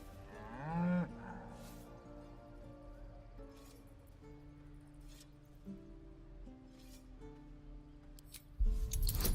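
An ox in a video game gives a moo near the start, a short loud bellow with a falling pitch, followed by faint game sounds and music until a louder burst at the very end.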